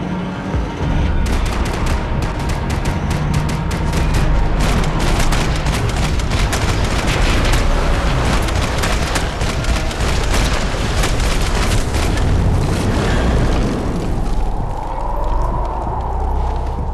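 Max Payne 3 video game combat: dense, continuous gunfire and rumbling explosions pile up loudly for most of the stretch, easing slightly near the end.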